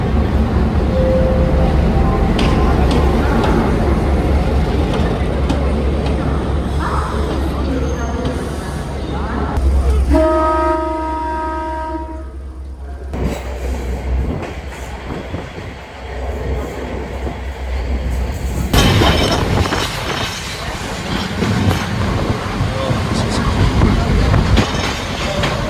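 A Sri Lankan Railways train rolls slowly along the track, a loud continuous rumble and rattle of wagons heard from on board, with a brief shrill whistle or horn tone and squealing wheels partway through.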